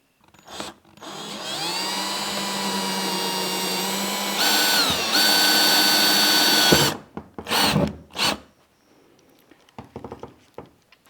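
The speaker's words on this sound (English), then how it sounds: "drill out the holes with a 9/32 drill bit" A power drill with a 9/32 bit whines steadily for several seconds through a mounting plate on a Crestline boat bow, shifting pitch partway as it bites, then stops; a few short bursts follow before quiet.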